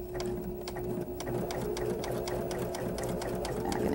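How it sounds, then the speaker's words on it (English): Machine embroidery stitching on the top of a napkin, the sewing machine running in a steady, fast, continuous rhythm close to the microphone for the whole stretch, with no talking. "And then I'm going to move to the top and just stitch on the top."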